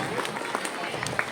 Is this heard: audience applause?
yes